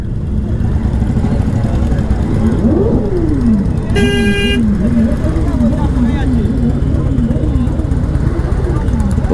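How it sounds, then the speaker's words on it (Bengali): A crowd of motorcycles gathers at Azad Hind Dhaba on an Independence Day bike ride, engines rumbling steadily while loud, wavering horns blare, including one sharp toot; voices murmur through the busy, continuous din. "মানে বাইকের মেলা বসেছে।"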